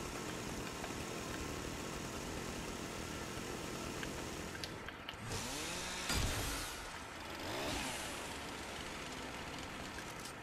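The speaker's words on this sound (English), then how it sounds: "Yo, I like the chainsaw." Chainsaw engine in the video game Fortnite, a continuous droning buzz with a couple of revving swells midway, held at a steady moderate level throughout.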